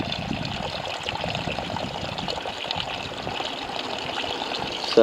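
Water draining out of a bung hole in a VW Touareg, a steady close trickle and gush pouring out continuously and fairly quietly with no voices.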